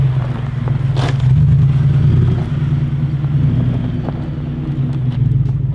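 A 2015-2019 Ford F150 with a 5.0L V8 and an MBRP 3-inch single-exit cat-back exhaust, its deep throaty rumble idling loudly up close, with brief blips and swells in engine note throughout.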